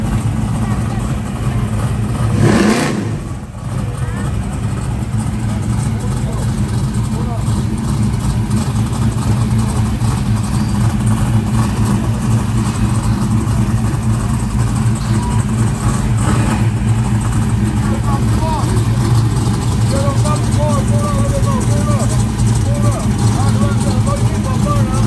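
A Ford Mustang race car fresh off the trailer rumbles with a loud, steady engine drone and occasional revs, while voices talk over it throughout.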